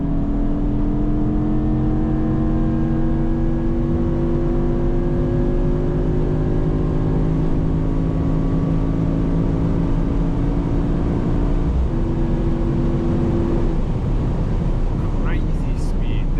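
A Mercedes-AMG GT63 hybrid V8 drops to fourth gear at night on the Autobahn, its steady engine drone holding loud and close inside the cabin and shifting pitch near the end, with someone talking over it.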